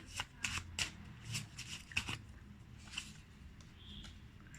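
Tarot cards being shuffled and drawn give a series of crisp, close papery flicks and snaps, clustered at first then thinning out into a few softer slides, with no talking.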